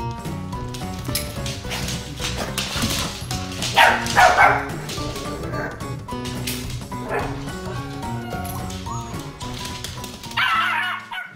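A dog meeting its puppy sibling gives excited yips, whimpers and bow-wow barks in uneven bursts, close and fairly loud, over background music.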